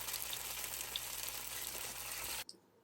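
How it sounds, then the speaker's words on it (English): Oil sizzles and crackles steadily under taro cake pan-frying, up close, then cuts off abruptly near the end. "You just want it to be hot enough so you can hear the sizzling sound"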